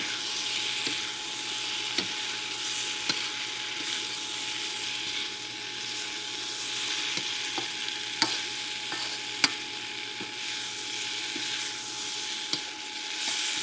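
Tofu and vegetables stir-frying in a pan, giving a steady broadband sizzle throughout with occasional light clicks and scrapes of stirring, close and moderately loud, with no voices.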